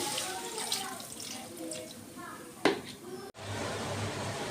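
Water pours onto cut pointed gourd in a pot for boiling, a soft splashing stream with a brief knock near the end before a steadier rush, close but fairly quiet.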